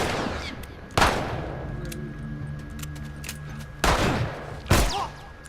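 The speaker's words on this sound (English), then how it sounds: "Yeah, shoot him, Ellie." Gunfire in The Last of Us video game: three loud sharp shots, each with a short echoing tail, over a low steady background hum.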